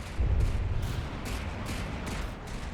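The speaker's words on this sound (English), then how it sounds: "here comes the counter bombardment" Artillery counter-bombardment in the game From the Depths: a heavy, rumbling volley of distant shell impacts and booms that rolls on continuously, loud at first and then settling into a sustained low barrage.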